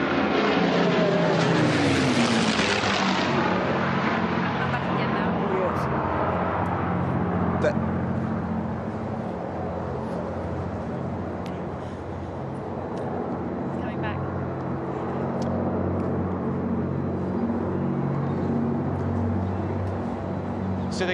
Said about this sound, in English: I'll let everybody listen now to the lovely sound of the Hurricane and Spitfire